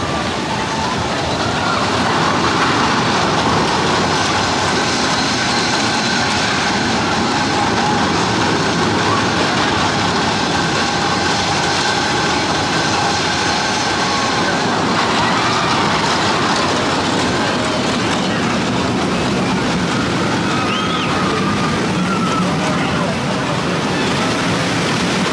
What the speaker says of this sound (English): I am stuck waiting for a train to go past